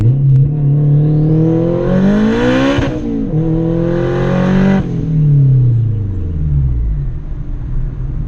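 An Acura RSX engine revs hard through several gear changes on a straightaway, pitch rising and dropping with each shift, loud and close from inside the car.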